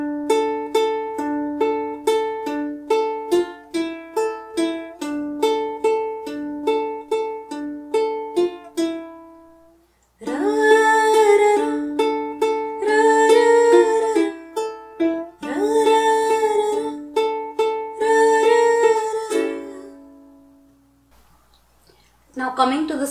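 Ukulele playing the intro of a song from Gully Boy, picked single notes in a steady melodic line, then fuller strummed chords after a brief pause, ringing clearly and alone with no voice.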